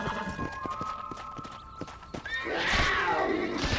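A horse in Red Dead Redemption clops along with a quick run of hoof beats, then lets out a loud, close, wavering neigh that fills the last second or so.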